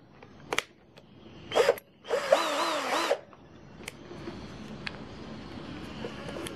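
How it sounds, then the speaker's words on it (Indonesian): A cordless 18V impact drill, a Xenon CDID1845, whirs in a few short bursts boring into softwood, the longest lasting about a second, with clicks and handling noise between, then faint background hum. "Kita lanjutkan untuk mengujikan pengeboran ya."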